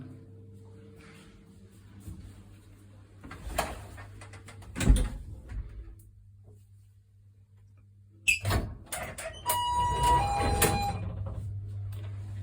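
Manual door of a home hydraulic villa elevator with a full mirror-finish stainless steel cabin, giving a few sharp clunks and rattles around the middle and a longer burst of metallic clatter and scraping near the end, over a steady low motor hum.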